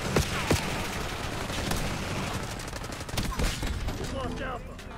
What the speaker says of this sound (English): The shotgun is crazy in the beta